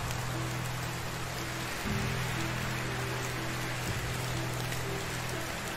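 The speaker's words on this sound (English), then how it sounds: "It's a wet, rainy autumn day." Steady rain hisses continuously on a wet autumn day in the medieval survival game Medieval Dynasty, a dense even wash with faint low tones underneath and no talking.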